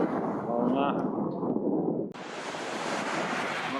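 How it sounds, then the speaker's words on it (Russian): Stormy winter sea crashing onto the beach at Gelendzhik in strong wind: a continuous heavy roar of surf with gusty wind buffeting the microphone, loud and unbroken throughout. "Потому что шум такой стоит, шум моря."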